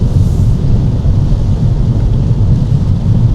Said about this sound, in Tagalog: Mas lalong lumakas yung ulan ngayon.